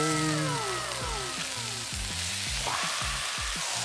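Pork belly strips sizzle and crackle on a hot grill in a loud, continuous frying hiss, close up, with faint background tones sliding underneath and no one speaking.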